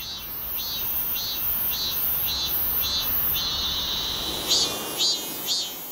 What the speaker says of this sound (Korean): 매미가 여름 내내 세상 시끄럽게 울어대는 이유는 암컷을 유인하기 위해서다.